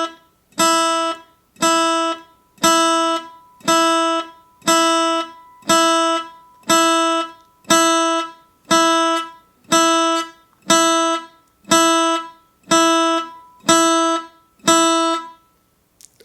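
Repeated guitar chords struck on the off beats in a syncopated rhythm, about thirteen even, clean hits spaced roughly a second apart, each cut short before the next, heard alone.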